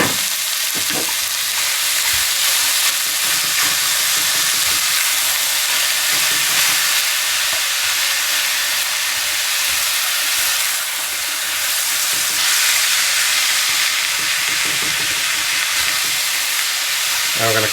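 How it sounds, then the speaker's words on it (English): A pound of ground beef and diced onion fries in hot oil, giving off a loud, continuous sizzle with occasional stirring scrapes running underneath throughout. "Now we're going to cook this until our beef is done."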